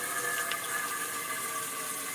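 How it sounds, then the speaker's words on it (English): Running water pours steadily from a tap into a cooking pot in a home kitchen, a loud continuous hiss and splash with no pauses and no talking. "I'm filling up the pot so I don't have to go back and pour."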